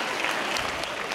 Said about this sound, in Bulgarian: Аплодисменти още веднъж.